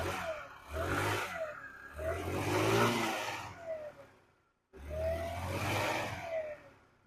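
A Forte New Jog 80 scooter engine starts and runs close by, a buzzy two-stroke drone that rises and falls in revs, cuts out briefly, then picks up again.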